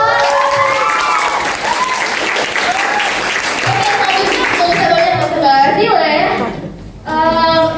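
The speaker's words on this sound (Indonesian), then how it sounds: "Tepuk tangan dulu dong." Clapping and cheering from a school audience after a dance performance in a student talk show, with children's voices and shouts running over the applause and a brief drop before a voice resumes.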